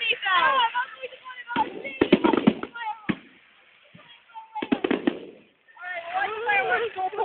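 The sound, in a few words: bonfire night fireworks exploding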